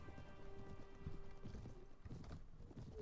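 Horse hooves clip-clopping in the medieval video game Mount and Blade: Warband (Viking Conquest), an irregular run of clear near hoofbeats with a faint whinny, over a low game ambience.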